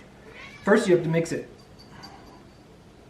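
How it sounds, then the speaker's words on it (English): A house cat meows loudly in a short burst inside a home kitchen while pasta dough is being mixed, with someone talking over it and quieter voices afterward. "So if you hear the cat meowing, that's what's going on."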